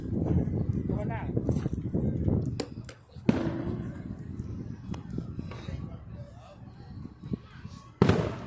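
Fireworks bursting outdoors at a Fourth of July celebration, a series of sharp pops and booms, some near and some farther off, with people talking throughout.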